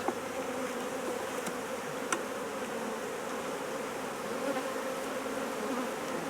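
Honeybees swarm around an open hive during brood removal, a constant dense buzzing hum of many wings close by, with a couple of faint clicks and no speech.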